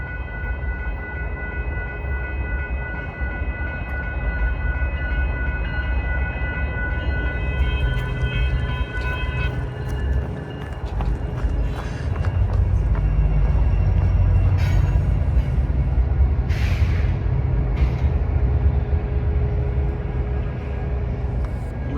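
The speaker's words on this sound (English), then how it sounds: "an eastbound BNSF coal train." An eastbound BNSF coal train rolls past at close range, its steady loud rumble of wagons and wheels continuing throughout with metallic squeals and clanks rising in the second half.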